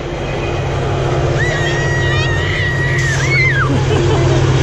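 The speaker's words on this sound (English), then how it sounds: "It's a train. Look at it come." Train passing near a roadside with family members watching, a loud steady rumble and clatter throughout, with a long horn-like tone rising and bending midway, while people talk and call out over it.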